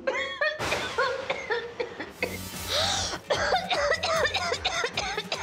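Several harsh asthmatic coughs burst out between strained, voiced sounds and breathy gasps, close to the microphone, with short pauses between the fits.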